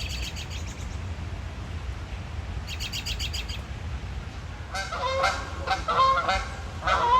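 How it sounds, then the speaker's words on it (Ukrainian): Canada geese honk in flight, a burst of harsh repeated calls rising over steady outdoor background noise, growing louder and more frequent toward the end. "Ну, коли летять, чути завжди їх. Це канадські гуси"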